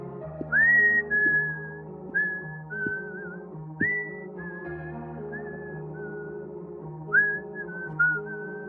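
A man whistles a slow, wavering tune in close, clear tones, short rising phrases separated by pauses, over a quiet low musical backing with no talking.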